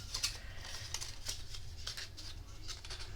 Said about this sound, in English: I'm just going to trim some of this off. I'd rather use my bigger scissors over here.